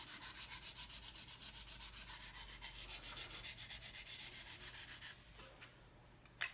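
A knife edge is scrubbed back and forth on a KME diamond sharpening stone in fast, even rhythmic strokes, close and distinct, ending with a few slower scrapes and a final tap.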